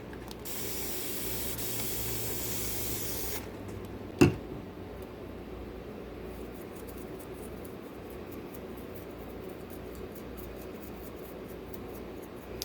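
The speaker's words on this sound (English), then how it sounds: "Spray some more water." A burst of broadband hiss from a spray bottle for about three seconds, then quiet with one sharp click.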